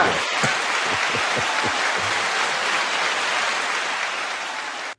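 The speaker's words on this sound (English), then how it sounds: "Good, you do your applause thing." A dense, steady applause sound effect, played on cue during a hip-hop talk show, carries on evenly for about five seconds before stopping abruptly.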